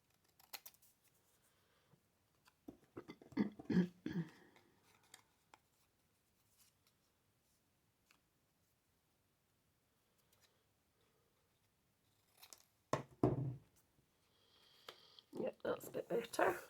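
Snips of scissors cutting paper for an advent calendar craft come in a few close bursts separated by quiet gaps, with a voice speaking briefly.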